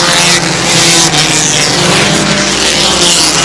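Race cars on a dirt-track style oval speeding past, a loud, close, roaring wash of several engines overlapping with no gaps for the full few seconds.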